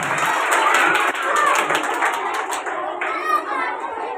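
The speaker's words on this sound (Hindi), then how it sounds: "बिटिया के लिए जोरदार तालियां बजाते रहिए आप सब।" An audience claps loudly for a girl receiving a third-place prize at a gift-giving event for poor children, with dense continuous hand claps, crowd noise and a voice speaking over them.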